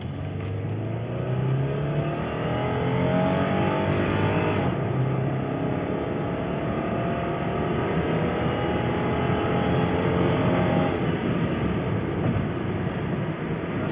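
A 2001 Dodge Intrepid ES on a road test drive: steady engine drone and tire roar from inside the cabin, rising and falling as the car accelerates through gears, continuous and fairly loud with no talking.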